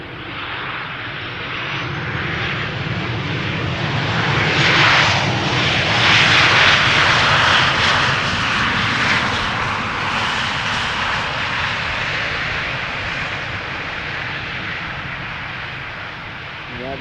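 KLM flight 1268, a 23-year-old aircraft, coming in to land at Schiphol Airport, its engine roar loud and sustained, swelling toward the middle and then easing as the plane passes.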